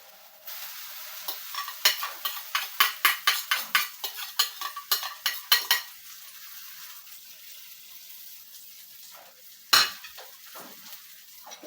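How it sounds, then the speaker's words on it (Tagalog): Eggplant omelette (tortang talong) placed into a pan with a little oil, with a rapid series of utensil taps and scrapes over a soft sizzle, then quieter frying and one sharp clink near the end. "At ilagay na natin ang ating tortang talong."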